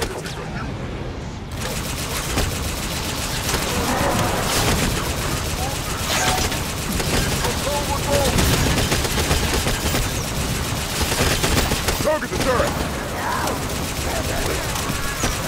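Rapid gunfire from the mounted gun of a Ghost vehicle in the Halo 5 video game goes on as dense, continuous bursts, loud and close, with voices talking over the shooting.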